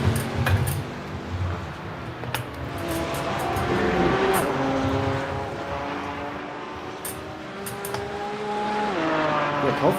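A Porsche race car from a racing video game screams past with a rising, then falling engine whine and gear-change steps, steady and fairly loud against a wash of other cars on track, with faint talk.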